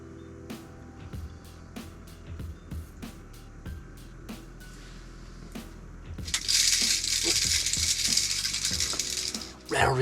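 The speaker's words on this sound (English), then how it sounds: "Rattle reel just went" Rattle reel on an ice fishing tip-up going off, a series of sharp metallic clicks and rattles over several seconds, followed by a louder burst of hissy noise near the end.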